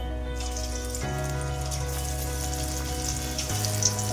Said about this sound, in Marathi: असं पूर्ण सगळ्या वड्या भाजून घेऊया.